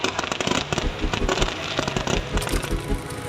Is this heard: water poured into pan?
no